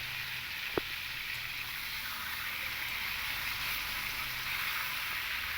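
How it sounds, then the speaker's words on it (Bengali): Sliced pointed gourd (potol) fries in oil in a covered pan, giving a steady, even hiss and sizzle throughout, with one short knock early on. "পটলগুলোকে কিন্তু খুব ভালো করে একটু ভেজে নেব"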